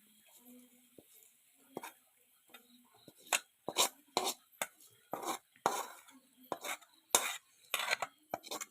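Hot tempering of small onions poured into a tomato curry, giving a run of sharp crackling sizzles and metallic clinks from a pan and spoon, close up, under faint background noise.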